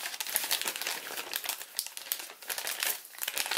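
Weak origami paper being folded and collapsed at close range, giving continuous crisp crinkling and rustling with small irregular crackles throughout and no voices.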